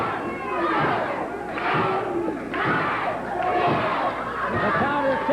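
Wrestling crowd at a 1980 Central States match between two wrestlers, a dense, loud mass of shouting and chanting voices that swells in rhythmic waves, with thuds from the ring beneath.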